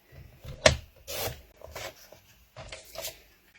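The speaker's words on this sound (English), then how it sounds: "I'm going to trim 2 one way and 2 the other way" Scrapbooking paper being trimmed on a cutter, a few short rubbing slides and one sharp snap, close and fairly quiet with gaps between strokes.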